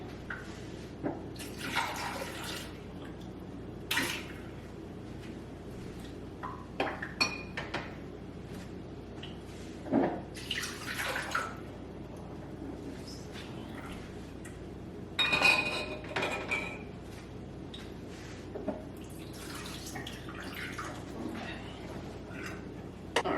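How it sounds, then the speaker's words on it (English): Glass canning jars are filled about halfway with water and set into the bottom of a pressure canner for green beans, giving intermittent splashes, pours and glassy clinks spread over a quiet kitchen background. "So just putting these jars about halfway full with water here into the bottom of the canner."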